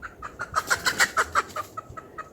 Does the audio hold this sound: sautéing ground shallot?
no